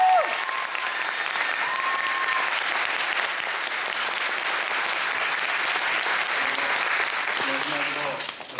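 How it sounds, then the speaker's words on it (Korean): A large theatre audience applauds steadily at a Korean university musical's curtain call. The clapping forms a loud, continuous roar for several seconds, a voice is heard briefly at the start, and a few tones sound near the end as the applause thins. "우리 후배들한테도 정말 진심 어린 박수를 드리고 싶습니다"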